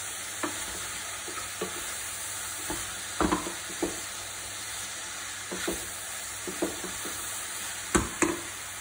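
Cauliflower and broccoli florets drop into a pan of hot oil for a vegetable biryani, setting off a steady sizzle with occasional clatters and stirring knocks close by.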